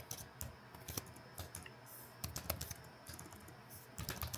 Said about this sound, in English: Now what I'm going to do is I'm going to type in conft